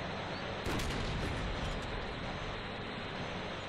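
Tank cannon fire and battle noise from the video game Ground War Tanks, played in a Jagdpanther: a dense, steady roar of gunfire and rumble throughout, with one sharper blast standing out near the start.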